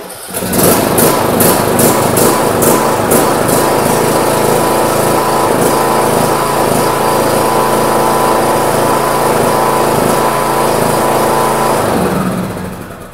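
A John Deere D-series lawn tractor engine cranks briefly, then catches and runs at a loud, steady high-pitched drone close by before cutting off at the end.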